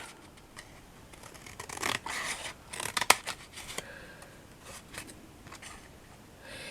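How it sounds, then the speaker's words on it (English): Scissors snip through thick card pages of a small handmade scrapbooking booklet, with a few close, crisp cuts clustered in the middle between softer rustling of card being handled. "is to go in and just snip off from each page"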